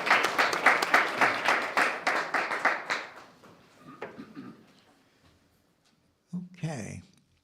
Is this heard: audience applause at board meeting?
yes